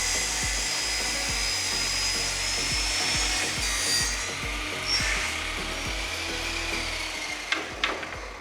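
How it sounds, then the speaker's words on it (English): A power saw rips lumber down for baseboards, giving a sustained, close, high whining cut with rough low chatter through the wood, then a few knocks as the cut ends. "I am going to cut this lumber down because one of them's broke. So I'm gonna rip all of them down to match this size"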